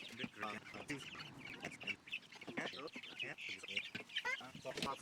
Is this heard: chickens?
yes